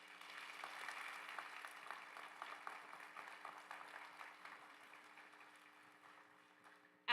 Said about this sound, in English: Can we give them applause?